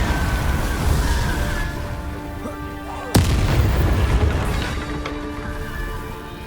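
A Confringo explosive spell blast in Hogwarts Legacy gives one sharp, loud crack near the middle, set against steady rumbling combat noise and a few fainter impacts.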